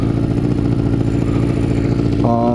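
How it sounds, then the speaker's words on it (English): A four-cylinder 400cc motorcycle engine runs steadily at close range, a loud, even, buzzy hum with mechanical clatter that holds throughout and shifts slightly in tone near the end. "it's four cylinder, 400, so it's 100 cc per cylinder"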